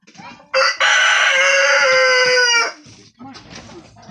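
A rooster crows once, loud and close, its long harmonic call holding for about two seconds, with softer clucking and farmyard sounds before and after.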